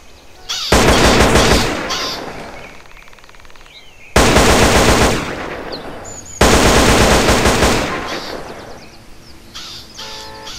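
Modded weapons firing in GTA San Andreas: three loud sustained bursts of rapid automatic gunfire, each cutting off abruptly and followed by a decaying echo, with faint ambient game sounds between bursts.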